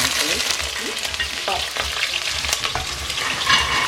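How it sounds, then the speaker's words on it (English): Chopped onions frying in hot vegetable oil, a steady close sizzle running throughout with scattered pops and stirring scrapes, loud and without any talk. "I've added oil, vegetable oil here. And I have my chopped onions. I'm going to add this one."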